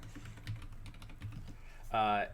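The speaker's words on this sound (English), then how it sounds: "Can I say something as I'm typing this actively?" Keys clatter in a fast, uneven run of light clicks as someone types on a computer keyboard, close and moderately loud, before a brief tonal game sound swells near the end.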